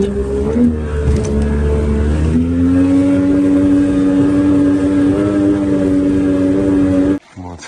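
A Vydra motorboat carrying two people and a heavy load of cargo runs at a steady, loud engine drone with a constant tone, then cuts off abruptly near the end.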